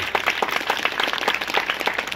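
An audience at a public event claps to welcome guests, producing a lively burst of rhythmic applause, dense and moderately loud.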